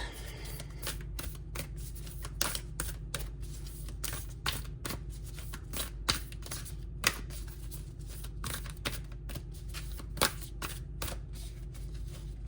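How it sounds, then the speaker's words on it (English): Quiet riffling of a deck of cards, rapid crisp clicks in irregular bursts across the whole stretch, close up, with no one speaking. "we're going to shuffle again"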